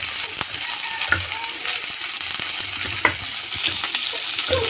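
Onions and curry leaves fry in a pan with a loud, continuous sizzle, broken by scattered sharp pops and scraping stir strokes, and no talking is heard.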